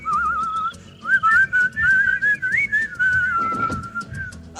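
A person whistles a wavering, tuneful melody up close, with steady rhythmic thumping underneath.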